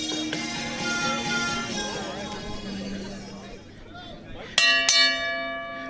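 Wrestling match ring bell at a brewery show, rung in several bright metallic clangs that ring out over crowd chatter, with a final loud strike near the end.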